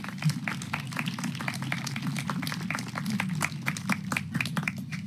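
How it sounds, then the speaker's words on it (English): Crowd at an outdoor veterans parade in Lincoln claps steadily, many hands producing a dense, moderately loud patter of individual claps that carries on for several seconds over a low murmur. "Everybody clap!"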